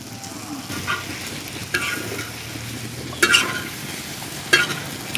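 Boiled potatoes fry in a pan for street-style pav bhaji, with a soft steady sizzle and a few sharp scrapes and clinks as they are stirred.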